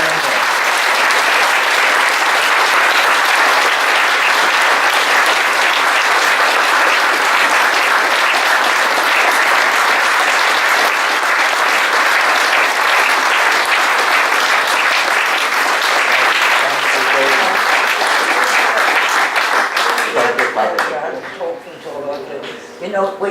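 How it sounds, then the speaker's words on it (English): A lecture audience applauds a speaker at a Kindertransport talk, with steady, dense clapping running loud for about twenty seconds before thinning out and fading at the end. "So a big round of applause once again for Anne."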